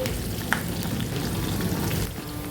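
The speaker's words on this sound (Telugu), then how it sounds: "జీడిపప్పు పలుకులు వేసుకోవాలండి కొద్దిగా పచ్చిమిర్చి వేసుకోవాలి ఎండుమిర్చి లాస్ట్లో కొద్దిగా కరివేపాకు వేసుకొని వీటిని బాగా ఫ్రై చేసుకోవాలి" Cashew pieces, green chilies, dried red chilies and curry leaves fry in hot oil for pongal, giving a steady close sizzle that runs the whole time with no voices.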